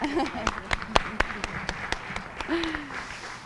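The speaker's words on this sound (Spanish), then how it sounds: "a Yolanda Ivonne Arámbula Álvarez, un aplauso por favor." Sparse, scattered clapping from a small group, a few distinct claps spaced out over a few seconds, with a voice briefly heard in the background.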